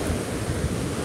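Rough, broadband roar of ocean surf on the Lagonoy Gulf during a typhoon with heavy rain, steady and fairly loud, mixed with wind buffeting the microphone.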